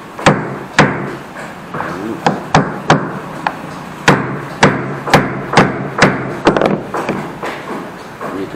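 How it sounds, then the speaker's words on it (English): A hammer drives a nut into wood, striking repeatedly with sharp metallic knocks and short pauses between blows, close and loud. "So we're going to hammer this nut down in."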